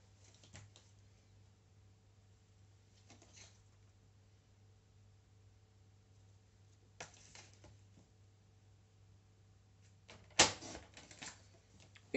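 Decorative paper trimmed for a Christmas scrapbook album page, quiet tapping and rustling handling sounds then one sharp cutting snap near the end, faint over a low steady hum.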